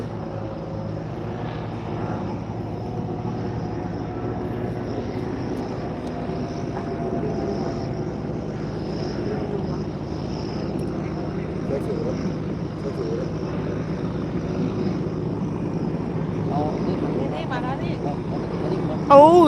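Steady engine drone of a jet ski, fairly distant and constant, with a voice talking faintly over it.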